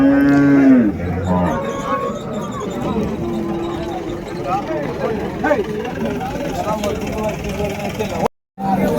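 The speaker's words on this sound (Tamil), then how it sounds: "நல்லா பெரிய பெரிய எருதுங்க எடுத்துகிட்டு வந்திருக்காங்க" A large bullock at the Vaniyambadi cattle market gives one loud, close low moo at the start, followed by busy market hubbub with people talking and an engine idling in the background.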